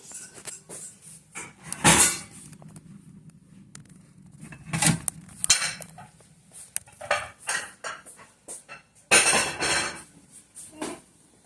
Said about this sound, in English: I'm gonna dry out the dishes that we washed previously